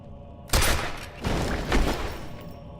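Rapid bursts of gunfire in the video game Sniper Elite V2 Remastered, loud and close, in two or three volleys with brief lulls between them, no voices.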